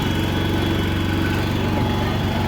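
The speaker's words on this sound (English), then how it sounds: "Had to get the boys' lawnmower going." A small lawn mower engine runs steadily at close range, a loud continuous throbbing drone with no talking over it.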